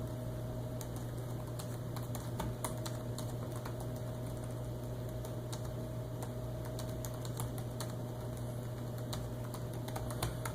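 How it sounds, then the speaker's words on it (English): Fingers type on the backlit keyboard of a Toshiba Chromebook 2 laptop, making a steady stream of light, clicky keystrokes close by over a constant low electrical hum, with no speech. "And let me type just a couple things just to give you a feel of travel."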